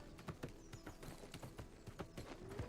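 Hoofbeats of a wolf mount trotting in the video game New World, a steady clip-clop rhythm of fairly close footfalls heard alone at moderate volume.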